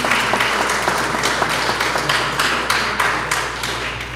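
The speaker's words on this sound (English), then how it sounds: "We could all give him a round of applause for his birthday." A church congregation applauds a member's 86th birthday on a Sunday morning, with a dense burst of many hands clapping at once. The sound is steady, then fades slightly toward the end.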